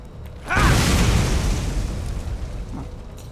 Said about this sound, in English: So they do explode with a melee attack.